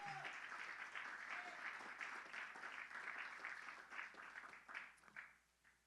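A congregation claps during a Spanish-language church sermon, a steady wash of applause that thins and tapers off toward the end.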